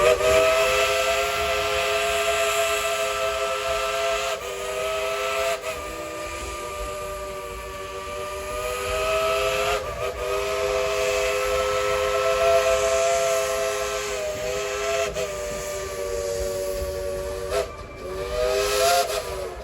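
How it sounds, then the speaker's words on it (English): A loud, sustained steam locomotive whistle at Dollywood, Pigeon Forge, Tennessee, blows with several chime-like tones, briefly cutting out and restarting a few times over a steady hiss of steam. "we're going to tell him to blow the whistle. 1, 2, 3, blow the whistle."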